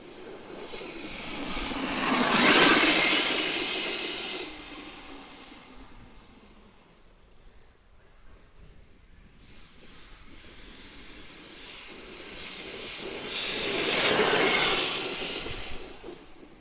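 A brushless, 8S Castle-powered Losi 5T RC truck on paddle tires runs over grass, its whining motor swelling loud as it passes close twice, fading between passes.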